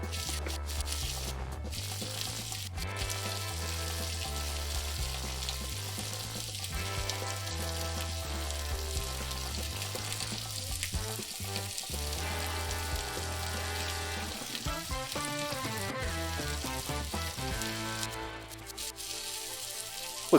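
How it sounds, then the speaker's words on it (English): Steady crackling sizzle of turkey burgers frying on a hot grill top, continuous and close, with no one talking. "I was muting it so you get all the lovely sizzle"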